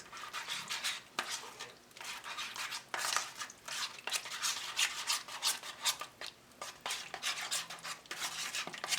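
A spoon scrapes and swirls through Hungarian red kidney bean soup as sour cream is mixed in, irregular rubbing strokes against the pot in quick uneven bursts, close and fairly quiet, with no voices.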